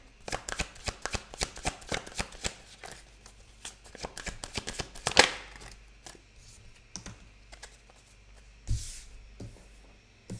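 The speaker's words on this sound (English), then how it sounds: "whilst I pull the rest of the cards out" Tarot cards riffle and snap one after another as they are pulled from a deck during a Gemini reading, a fast run of crisp card clicks that thins into scattered flicks and a louder slap, with no talking.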